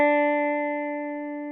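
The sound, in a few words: sustained string note ringing on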